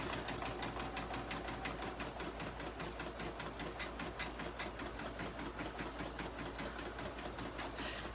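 An embroidery machine stitches a leaf design on hooped fabric, a loud, close, fast rhythmic clatter that continues evenly without a break.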